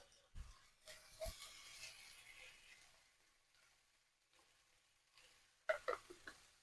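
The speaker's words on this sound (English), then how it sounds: "as you hear the sizzle, we're going to add a little water" Smothered potatoes with a bay leaf frying in a pan, soft crackling sizzle with scattered clicks and stirring knocks, quiet overall with a louder burst of pops near the end.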